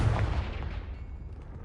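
A Confrigo spell blast in Hogwarts Legacy hits with a deep booming impact that fades into a low rumbling tail, a single close explosion heard alone.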